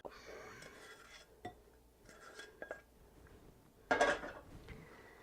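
Cashews are stirred through hot sugar in a pan, and a utensil knocks and scrapes against the metal in scattered clinks with one louder clatter near the end. The sounds are fairly quiet, and no voice is heard.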